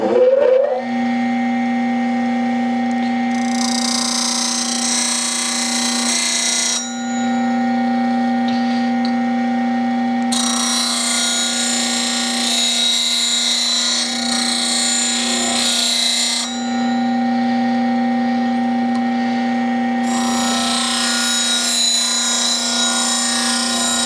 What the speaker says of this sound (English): I'm just gonna grind down to my curve however I established it.